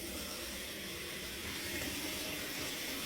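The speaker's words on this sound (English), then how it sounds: "It's a constant water flow" Water runs constantly through a newly installed toilet, a faint, even hiss that holds unchanged throughout with no voices.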